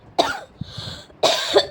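A person with a heavy cough in hot weather coughs hard twice, close up, with a short wheezy breath and soft rustle between the two harsh bursts.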